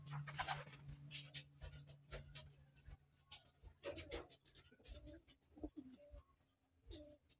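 Pigeons coo softly in a loft, with low, faint rounded calls repeating amid light scratching and shuffling, all quiet and close.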